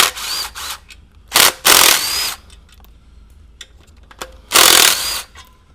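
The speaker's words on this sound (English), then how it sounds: "we'll get under here and remove this pressure plate, and these are using a reverse Torx E8 size bolt" Reverse Torx E8 pressure plate bolts being removed on a 2002-06 MINI Cooper S clutch job, loud bursts of a power tool whirring in three or four separate runs with quiet clicks and handling noise between them.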